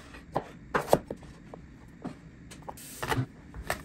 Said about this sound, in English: Chop a small onion and cut some fresh ginger.